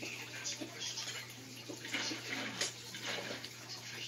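Water is poured into an aquarium tank with a steady, faint splashing and trickling stream, a constant low hum running underneath throughout.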